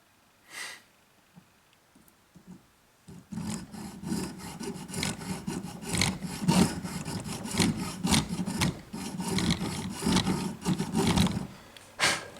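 A file cutting string slots into a new bone nut on an acoustic guitar held in a vise, heard as close, steady rasping strokes in a continuous rhythm after a brief quiet start, with no talking.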